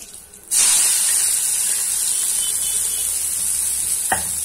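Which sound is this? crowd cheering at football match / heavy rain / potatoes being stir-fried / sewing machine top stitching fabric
potatoes being stir-fried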